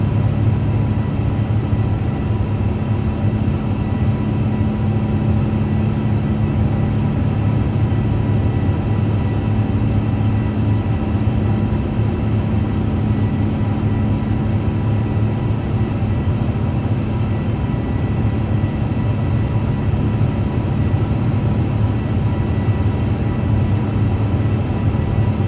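Airbus A350 cruising in Microsoft Flight Simulator 2024, a steady, dense engine drone and rumble that holds at an even loudness throughout with no talk.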